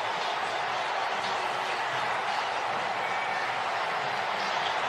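NFL stadium crowd at Miami's game against New England roaring after a Miami touchdown, a dense, sustained wash of distant cheering and applause that holds level throughout with no clear single voices.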